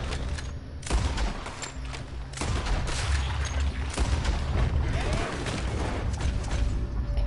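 Gunfire in a Western shootout in Red Dead Redemption 2, a continuous crackle of overlapping shots with a few heavier booms, steady and fairly loud throughout.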